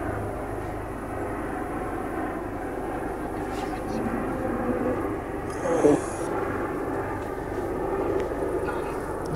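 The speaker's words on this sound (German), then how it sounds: "Wartet mal kurz, hier kommt ein Hubschrauber wieder." A helicopter passing overhead outdoors, a continuous low engine drone that rises slightly around the middle, with voices talking over it.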